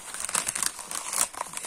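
Craft paper being wound by hand, a close, steady crinkling and rustling with sharp papery crackles throughout, no voices.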